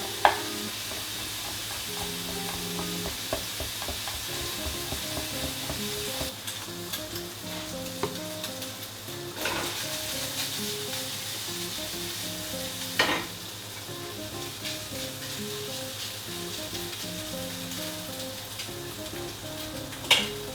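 Garlic frying in a little lard in a pan, a steady close sizzle and crackle running throughout with occasional louder spits and stirring scrapes, no talking.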